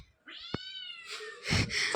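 A cat gives one clear, fairly close meow with a rising-then-falling tone, followed by some rustling and handling noise over the second half.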